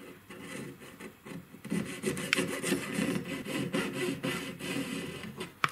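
A fine jeweller's saw cuts into the metal of a cabochon stacker ring, giving quiet, close, rhythmic rasping strokes that start softly and settle into an even back-and-forth for several seconds, with no voices.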